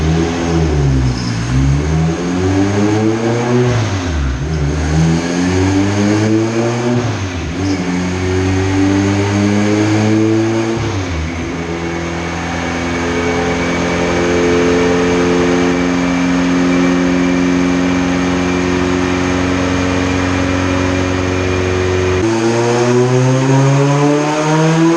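On a dyno, a turbocharged engine at about 26 psi of boost revs loud and close, sweeping up through several pulls with a brief drop between, then holding a long sustained high-rpm roar before climbing again.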